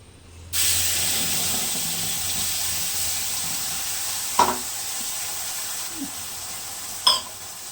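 A paste of poppy seed, ginger, chili and garlic with black cumin sizzles in a little oil, a steady close hiss that starts abruptly, broken by a couple of brief clinks from a spoon, with no talk.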